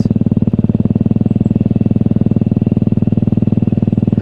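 A motorcycle engine idles nearby, its steady, even low thumping chugging along unbroken, with a loose throttle cable.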